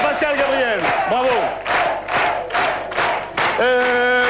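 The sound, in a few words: studio audience applauding and cheering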